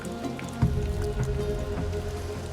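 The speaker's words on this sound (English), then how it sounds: "But heavy rain is flooding the cut and soaking the pay." Heavy rain pours steadily over a flooded gold mine cut, a dense, continuous hiss and patter of drops with no voices.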